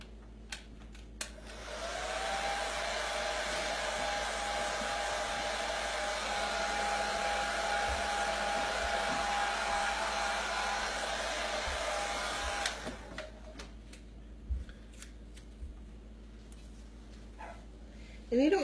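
A hair dryer blows steadily for about ten seconds to dry chalk paste on a chalkboard panel, a close whooshing hum that then switches off, followed by a few light clicks and taps.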